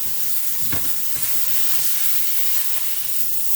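Ribeye steak fat edges searing on a stovetop pan, a loud, dense, hissing sizzle running steadily throughout with a couple of faint knocks.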